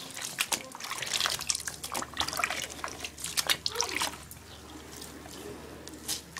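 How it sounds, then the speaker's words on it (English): Water drains and trickles out of a baby bath, a continuous gurgling, splashing flow heard up close, loudest early on and tapering off gradually. "I just drained a little bit because I don't want her swimming or playing in dirty water."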